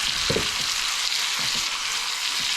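Shrimp sizzling steadily in a hot pan for creamy Cajun shrimp and grits, a constant bright crackle with a few soft low knocks of stirring, close and with no talk.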